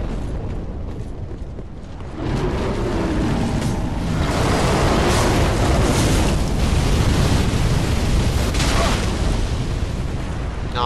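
Heavy explosions roar through Dark Souls III, The Ringed City, as a dragon's blasts rumble continuously and loudly for most of the stretch after a quieter opening.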